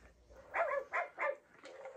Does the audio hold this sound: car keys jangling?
no